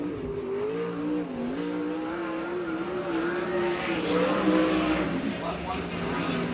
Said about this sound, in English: Here comes the blue number 18 car that's owned by Kittle Motorsports.